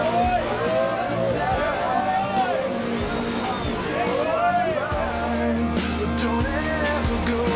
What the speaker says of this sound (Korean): 사람들의 환호성이 끊이지 않네요